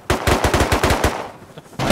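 Rapid automatic gunfire in the video game Rust, a loud close burst of about a dozen quick shots, a brief pause, then another shot.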